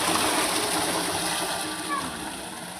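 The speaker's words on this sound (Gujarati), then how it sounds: "બોર ચાલુ કર્યો પાણી ભરવા માટે" Water from a borewell pump gushes and splashes continuously, a loud steady rush close by with a faint hiss, as if pouring hard into a tank.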